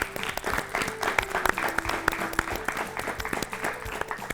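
Studio audience on a Hindi quiz show about human values claps after a correct answer, a moderately loud burst of applause with a faint tonal musical sting underneath and no speech.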